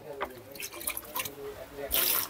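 Water splashes and trickles as a part of an espresso coffee maker is rinsed under a tap, with a brief louder gush near the end, faint and close.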